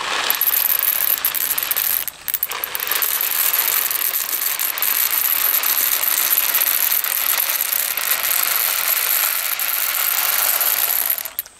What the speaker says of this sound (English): I'm going to put in 1 pound of macaroni